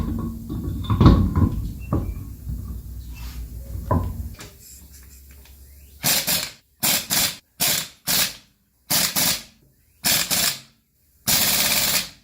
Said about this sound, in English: tighten it up with the impact wrench